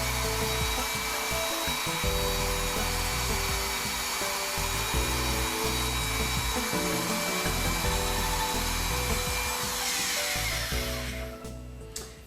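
Bead roller working along the edge of a sheet metal kick plate held against a fence, a steady close grinding, rubbing mechanical drone that runs continuously and then tapers off near the end.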